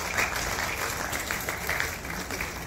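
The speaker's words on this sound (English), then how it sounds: "A huge round of applause to all you wonderful people here." Audience applause follows a keynote speech at the IIT Hyderabad E-summit, a steady, moderately faint wash of clapping that continues unbroken for a few seconds.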